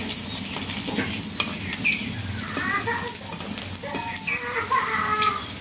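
Onion fritters (piyaji) sizzle and crackle in hot frying oil, with soft scraping and stirring as they are turned, while a voice speaks and farm animals call faintly in the background.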